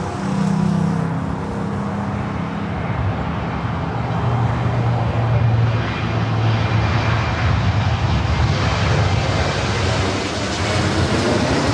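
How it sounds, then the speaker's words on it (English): An Airbus A321neo airliner arriving from Honolulu at LAX gives a loud, continuous jet roar with a slowly shifting engine tone, sustained throughout at close range with no talk over it. "This is flight coming in from Honolulu,"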